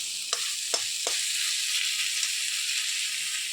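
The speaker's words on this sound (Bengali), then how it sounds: "চিংড়ি মাছগুলো দিয়ে একটু নাড়াচাড়া করে দিচ্ছি। আপনারা ভেজেও নিতে পারেন, আমি এটা মশলার উপর দিয়ে কষে নিচ্ছি" Prawns fry in spices in a pan, with a steady bright sizzle and three distinct scraping stirs of a spoon near the start, then a further faint stir, close and clear with no talk.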